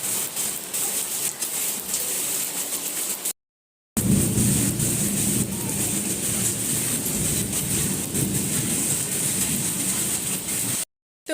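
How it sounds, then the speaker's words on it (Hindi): Very heavy rain pours down in a dense, continuous hiss with low thunder rumbling beneath it, briefly cutting out twice. "बहुत तेज बारिश आ रही है।"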